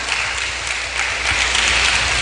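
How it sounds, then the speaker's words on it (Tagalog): Steady, loud applause from a church congregation fills the room with continuous dense clapping that builds slightly toward the end, with no talking over it. "Palakpak."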